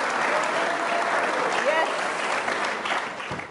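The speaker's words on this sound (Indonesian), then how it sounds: "Kita tepuk tangan dong Kak Okto." Studio audience applauding on an Indonesian television talk show as a national team football player is welcomed, steady dense clapping sustained throughout with a faint voice under it.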